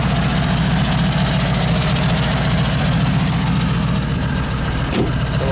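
A 1930 Ford pickup hot rod engine runs at a steady idle, loud and close, with a continuous low rumble and a slight waver throughout.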